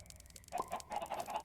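A person imitates a hen with a short run of clucking bursts, fairly faint and close, during a Minecraft roleplay session.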